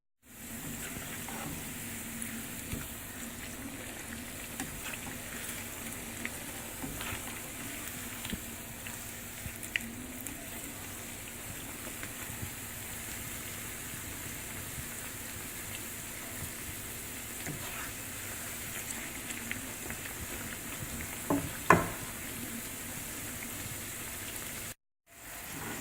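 Sweet potato slices, cut into thin rounds, frying in hot oil with a steady, quiet, continuous sizzle and crackle throughout, with a few brief louder pops near the end.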